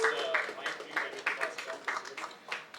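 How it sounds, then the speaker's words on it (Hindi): Audience applause at a press meet for a YouTube show, steady rhythmic clapping from a small crowd lasting a few seconds, fairly close and with no speech over it. "मैम के लिए जोर से ताली प्लीज करें।"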